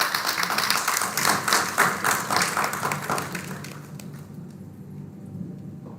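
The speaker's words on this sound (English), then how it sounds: "Let us welcome Sir with a warm round of applause." Warm round of audience applause at a National Technology Day event welcoming a speaker, dense clapping that gradually thins and fades toward the end.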